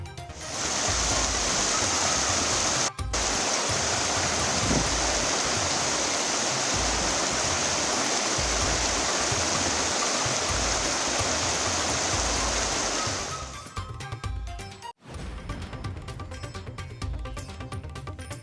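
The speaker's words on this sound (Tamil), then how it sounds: "கனமழையால் மரக்காணம் ஓங்கூர் ஆற்றில் வெள்ளப்பெருக்கு." Floodwater from the Ongur river near Marakkanam rushes after heavy rain, a loud, steady roar of churning water that holds without a break for most of the time before the sound changes near the end.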